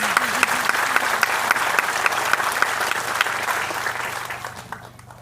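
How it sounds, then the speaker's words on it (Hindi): Sustained applause from a large audience at a leadership training event in Kolkata, dense steady clapping that fades out toward the end. "बेटी होती है, सर बिल्कुल ताली होनी चाहिए। Hats off to all the mother's."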